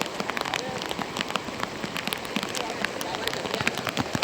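Steady rain patters on a surface during a village fishing gathering, with scattered sharp drops striking nearby and a constant hiss underneath.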